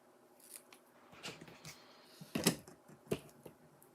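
Scissors snip through the loose ends of a ribbon bow on a handmade Christmas card, giving two or three crisp, close cuts that stand out against a quiet room.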